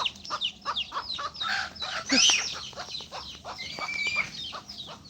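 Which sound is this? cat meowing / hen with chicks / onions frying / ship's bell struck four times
hen with chicks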